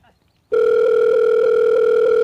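A telephone dial tone cuts in abruptly after a short quiet start and holds as a loud, steady, unbroken hum through the rest of a phone call.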